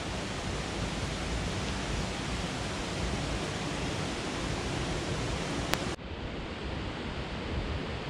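Waterfall near Standedge Tunnel in Marsden, heard as a steady broadband rush of falling water from a distance, continuous and even, with a faint click near the end.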